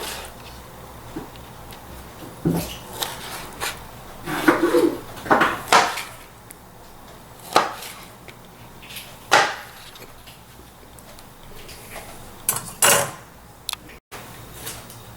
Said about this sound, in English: Time to cut up the tomatoes.